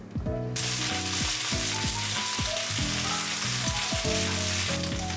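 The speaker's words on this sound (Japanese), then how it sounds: "ごま油大さじ1、カットした小松菜を炒める。" Cut komatsuna greens stir-fry in a tablespoon of sesame oil in a frying pan, giving a steady loud sizzle with repeated scraping stir strokes throughout, and no talking.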